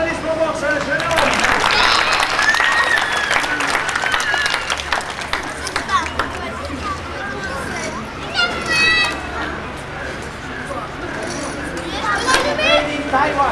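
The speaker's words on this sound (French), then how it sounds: "applaudissements pour ce jeune homme" Onlookers at an outdoor street-arts show clap for a young performer, lively applause mixed with excited children's voices, chatter and movement nearby, with bursts of high shouts.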